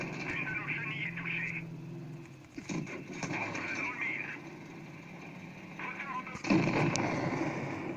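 A tank gets blown up during a World of Tanks Blitz match, with battle noise, gunfire-like blasts and a sharp impact burst near the end, under a continuous rumbling mix.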